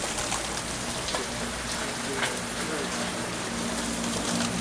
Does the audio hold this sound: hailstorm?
yes